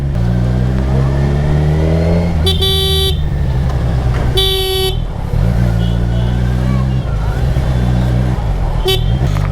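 Dense town traffic in Velankanni, heard from a Ninja superbike, with steady engine drone and revving and several loud, sharp car horn blasts sounding at intervals close by.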